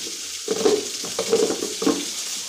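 Vermicelli upma sizzles as it heats in a pan, a steady hiss with a few soft stirring scrapes spaced about half a second apart.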